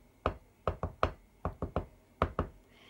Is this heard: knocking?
yes